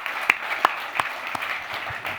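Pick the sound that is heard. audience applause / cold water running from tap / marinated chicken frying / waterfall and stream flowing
audience applause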